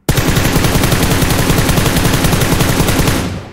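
Rapid automatic gunfire from PUBG gameplay, a loud continuous burst of evenly spaced shots lasting about three seconds before cutting off abruptly, with no voices over it.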